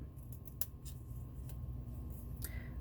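Scissors snip through paper for a paper pumpkin craft, a few short crisp cuts spread over a low steady room hum, close and fairly quiet.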